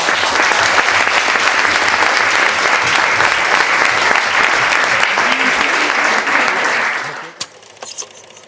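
Audience applause after a lecture on democracy and socialism, loud, dense and sustained for about seven seconds before cutting off to a quiet room with a few small knocks.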